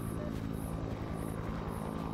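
A helicopter in the alien abduction horror game They Are Here gives a steady, continuous rotor drone with a low throbbing hum, moderately distant and unbroken, with no talk over it.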